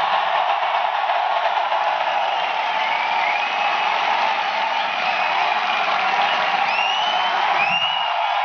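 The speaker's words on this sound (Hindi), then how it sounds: "जोरदार तालियां सुरेंद्र बस" Loud, continuous applause from a seminar audience at a network marketing leadership talk, a dense steady wash of clapping with a few whoops rising above it, running throughout.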